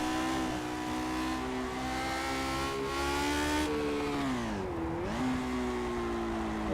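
Lotus 49 race car engine in Project Cars screams at high revs, pitch climbing steadily, then dips sharply during a gear change before pulling again, loud and continuous with no talk.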